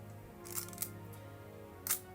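Two or three sharp mechanical clicks from the shutter slide of a miniature Cold War spy camera, which fires the shutter and advances the film, close and quiet, with a faint steady hum behind them and no talking.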